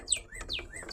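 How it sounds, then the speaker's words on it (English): A bird chirping outdoors in a container garden, repeating quick whistled calls that swoop down then up, several in a rapid rhythmic series, close and clear with no talking. "This bird wants somebody to listen to it."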